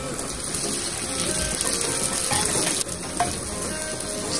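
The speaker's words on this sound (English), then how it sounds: "I will add the fresh cut tomatoes" Freshly cut tomatoes with garlic sizzle in a pan, making a steady, dense frying hiss throughout with faint stirring movements.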